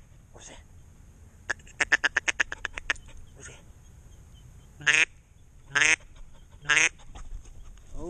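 A duck call is blown during retriever dog training outdoors. A rapid run of short quacks is followed by three separate longer calls spaced a second apart. A person speaks briefly near the start.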